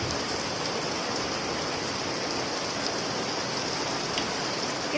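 Heavy rain pours down steadily in a continuous, loud wash of hissing noise, with no voices and no pauses throughout.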